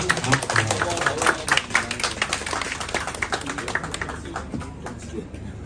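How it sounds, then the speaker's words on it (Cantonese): Audience applause at an association's executive committee inauguration ceremony, a dense burst of hand clapping that peaks early, then thins and fades over several seconds. "大力啲拍手掌，大力啲"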